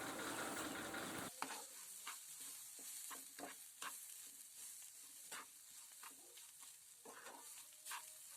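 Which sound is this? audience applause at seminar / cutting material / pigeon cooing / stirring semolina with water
stirring semolina with water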